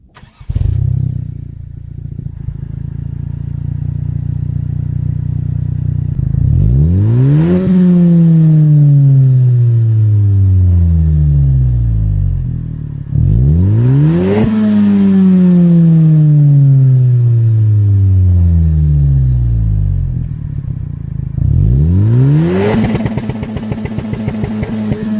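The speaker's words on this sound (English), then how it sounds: "The fourth exhaust is from Invidia." A Honda Civic fitted with an Invidia catback exhaust idles with a steady rumble, then revs sharply three times, each rise climbing to a loud peak and falling back to idle.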